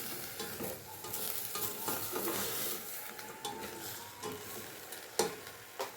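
Garlic and onion sauté in a little oil, a soft steady sizzle broken by repeated scraping and clinking of a spatula against the pan, close by with no talking.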